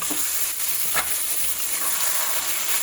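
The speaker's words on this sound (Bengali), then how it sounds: "এবার আমি ভালোভাবে মাটনটাকে ভেজে নেব" Mutton frying in a pan with browned onions gives off a steady, close, loud sizzle and hiss, broken by a few faint stirring scrapes.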